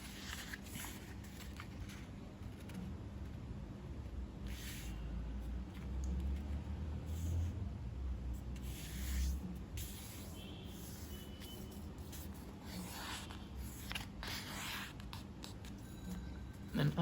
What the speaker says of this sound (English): start off by folding this in half,